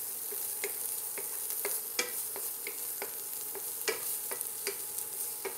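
Onion and garlic sautéing in a pan, a quiet, steady sizzle punctuated by regular taps and scrapes of a spoon stirring, close and without voices.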